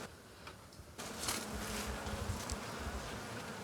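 Honeybees buzzing steadily around an opened beehive during formic acid mite treatment, a dense continuous drone that swells louder after the first second and holds close and full to the end.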